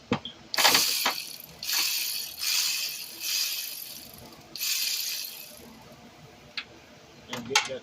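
A ratchet on an extension works a 10mm nut loose under a 2008-10 Honda Accord 3.5L V6 during AC compressor manifold replacement, giving several quiet bursts of rapid clicking with pauses and a few sharp metallic ticks.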